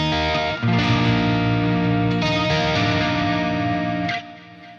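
Electric guitar through a chorus effect placed before a Fortin Nameless amp model on a Quad Cortex, heard as a sustained, shimmering distorted chord pattern that rings loud and steady before cutting off near the end.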